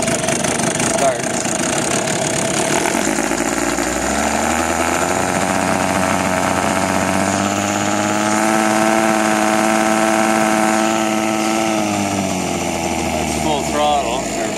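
Outboard boat motor on a small boat running with a loud, steady mechanical drone that swells and climbs in pitch mid-clip, then sags back as the throttle drops, apparently running on one spark plug.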